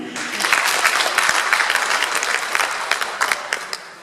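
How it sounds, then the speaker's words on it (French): Brisk applause from a gathering at an Advent retreat, a moderate crowd clapping steadily for a few seconds with individual claps standing out near the end. "Bravo, on va applaudir pour nous."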